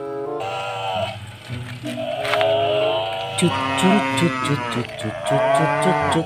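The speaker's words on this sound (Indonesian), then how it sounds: "di sini ada suara sapi minta tolong teman-teman" A cow moos loudly and repeatedly, long drawn-out lowing calls up close with little else around them.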